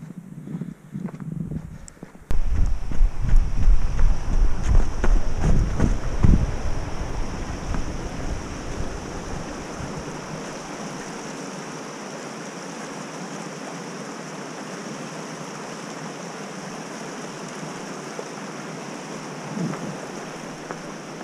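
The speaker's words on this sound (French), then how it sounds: "c'est pas une tempête de neige, c'est juste du vent dans les arbres" Strong wind roars through the trees of a winter park, a loud gust swelling early then settling into a steady, broad rushing hiss that carries on at a lower level.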